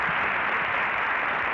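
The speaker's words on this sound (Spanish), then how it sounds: "Le damos un aplauso a nuestra Miss." Studio audience applause on a Venezuelan television variety show honoring Miss Universe 1979, Miss Venezuela Maritza Sayalero: a steady, dense wash of clapping that holds at an even level throughout, with no break.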